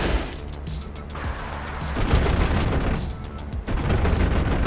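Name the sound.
37mm cannon fire from a MiG-15 in a video game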